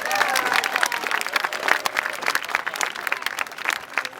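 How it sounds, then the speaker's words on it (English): Audience applause at a 2014 graduation ceremony, a crowd clapping for students being honoured. Some voices and cheers come through early on, and a fairly steady round of clapping continues at moderate loudness. "Please give another great round of applause to these students"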